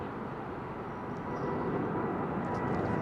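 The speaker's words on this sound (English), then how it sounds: "Another one of British Airways 788s." A British Airways Boeing 787-8 jet departing Heathrow, its engines a steady, broadband roar with no pauses that swells slightly louder toward the end, heard alone without any talking.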